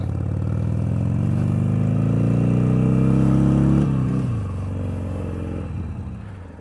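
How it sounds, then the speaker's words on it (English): Harley-Davidson Sportster engine running slightly rough with a slight misfire, a steady loud rumble that climbs in pitch, then drops as the throttle eases off, with no talking. "Wife's Sportster seems to be missing a little bit."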